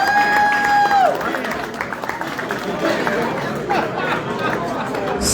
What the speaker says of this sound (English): Have a nice round of applause.